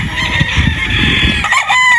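A gamecock rooster crows loudly and close by, a single long drawn-out call that fills the whole moment.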